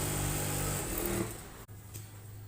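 Sewing machine stitching the center seam of a women's trouser, a steady close motor whir that runs continuously, then eases off and stops, with a soft click before a quieter hum.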